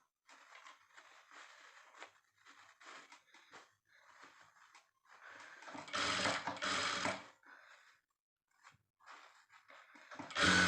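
A sewing machine stitches a puff sleeve seam in short bursts, with a louder sustained run of stitching in the middle and quiet handling sounds between.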